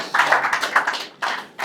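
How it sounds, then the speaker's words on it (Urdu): Scattered clapping from an audience at a construction company event in Pakistan, a short patter of hands that pauses briefly and then picks up again, with no voices. "زوردار تالیاں ان کے ساتھ بھی ہو جائے."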